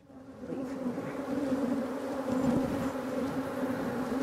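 A dense, continuous buzzing of many honey bees, steady and fairly loud throughout, with no voices.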